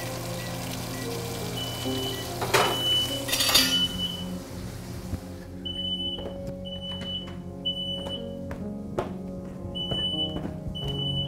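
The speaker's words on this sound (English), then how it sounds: "The smoke alarm just wouldn't stop screaming, screeching, and screaming, and screeching." A smoke detector beeps in short, repeated high bursts during steak cooking in a home kitchen, over a steady hum and clinks of cookware, with a couple of louder clatters early on and no talking.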